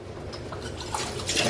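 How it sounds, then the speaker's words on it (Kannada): Water is poured into a cooking pot, a short, soft trickling and splashing over a low kitchen background, lasting barely over a second with no speech. "ಚೂರು ನೀರು ಬೇಕು"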